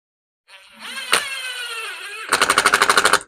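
Pneumatic impact gun working on a Stihl FS55 RC string trimmer, a loud rapid hammering burst near the end following a steady whining air-motor spin-up, close and with no talk.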